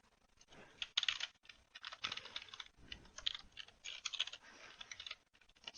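Computer keyboard typing in bursts of quick, close clicking keystrokes with brief pauses, during network automation work.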